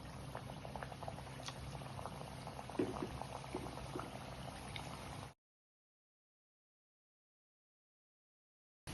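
Milk cake frying in hot coconut oil over a medium flame gives a steady, close bubbling and hissing for about five seconds, then goes silent.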